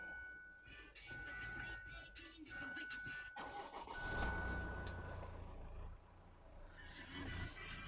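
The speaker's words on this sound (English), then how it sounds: "Okay, I'm gonna start the vehicle." A 2012 SsangYong Korando D20T AWD engine cranks and catches about midway, after a soft in-car chime, then settles into a close, quiet idle with no talking.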